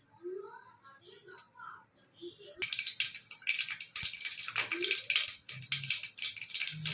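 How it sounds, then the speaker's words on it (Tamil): Mustard seeds, urad dal, fenugreek and curry leaves hit hot oil in a Tamil kitchen and burst into a loud, dense crackling splutter that starts abruptly and keeps going steadily, following a few seconds of quieter talk. "கடுகு உளுந்தம்பருப்பு வெந்தயம் கருவேப்பிலை போட்டுக்கலாம் கடுகு நல்லா பொரியட்டு"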